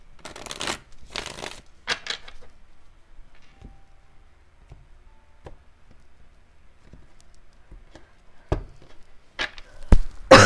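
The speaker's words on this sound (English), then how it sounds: "So let's get one more shuffle." A deck of tarot cards being shuffled in a few quick riffling bursts, with quiet pauses and soft taps between them, close by.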